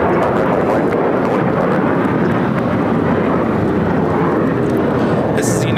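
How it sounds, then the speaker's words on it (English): A United Airlines Boeing 737-900ER takes off with a loud, continuous broadband jet roar that holds steady and fills the whole stretch at close range. "This is United Airlines 1430 taking off to Chicago on the 737-900 ER."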